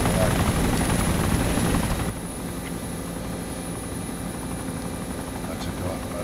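Helicopter engine in the video game DayZ, a loud, steady whirring drone that drops to a lower, softer level partway through and keeps running to the end.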